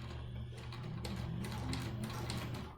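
A sewing machine stitching forward along a seam on a fabric face mask, a rapid mechanical clatter of needle and gears running steadily for a few seconds before stopping.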